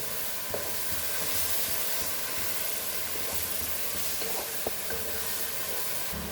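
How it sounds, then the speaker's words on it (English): Clams simmering in a pan for Goan clam pulao (tisreo pulao), a steady close sizzle and hiss with occasional stirring clinks and scrapes, no talk. "Now we'll add our tisreos, that is clam, and let it get cooked for 5 minutes"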